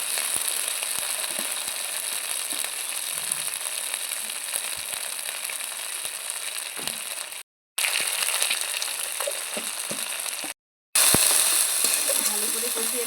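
A ground spice paste for palak paneer sizzles in hot oil in a pan, giving a dense, even hiss with scattered crackles and stirring scrapes, briefly cut off twice.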